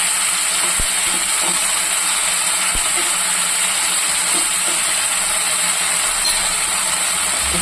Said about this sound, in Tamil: வெங்காயம் வதங்கி வச்சு நம்ம வந்து தக்காளி போட்டுக்கலாம்.